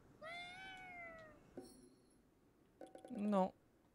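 A cat in the video game Ghostwire: Tokyo gives a couple of clear meows, a drawn-out one followed by a shorter, brighter call, with game tones in between.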